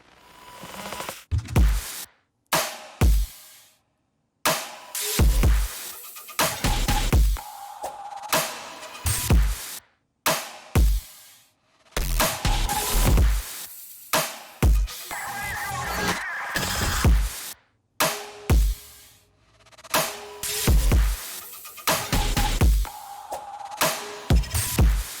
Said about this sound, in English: So with the drums, they sound like this.